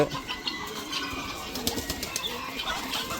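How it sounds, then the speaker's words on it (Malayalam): Caged pigeons on a farm, two cages of assorted pigeon varieties, give off soft flapping wing bursts and low cooing amid a noisy backdrop, close by and fairly faint. "വെറൈറ്റി പ്രാവുകൾ ഈ രണ്ട് രണ്ട് കൂട്ടിലും പ്രാവുകളാണ്"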